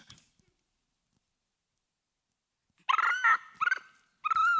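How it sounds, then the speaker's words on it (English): Recorded monkey calls break a long silence: a few short, harmonic barking yelps arrive close and loud in quick bursts near the end. "here are the voices of the monkeys"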